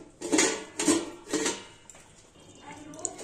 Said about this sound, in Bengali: ঢাকাটা তুলে দেখাচ্ছি।